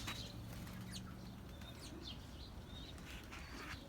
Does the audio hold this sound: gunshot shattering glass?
no